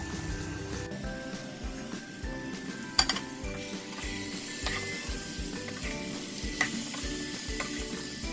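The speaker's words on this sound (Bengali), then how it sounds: "এবারে আমি ভিন্ডি দিয়ে দেবো এর মধ্যে। ভিন্ডিটা দিয়ে আমি ঢেকে ঢেকে রান্না করব যতক্ষণ ভিন্ডিটা না সিদ্ধ হয়।" Okra (bhindi) with spices cooking in a pan, a steady low sizzle with a loud music bed over it and occasional faint clinks of a utensil, no voices.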